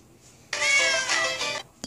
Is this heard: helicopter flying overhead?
no